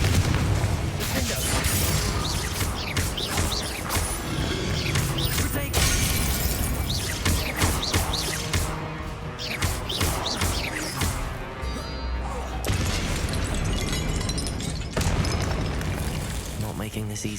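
Confringo blasting spell explosions in the Hogwarts Legacy video game, a dense run of booming, shattering blasts and crashes, loud and continuous over about seventeen seconds, with brief gaps between bursts and speech mixed in.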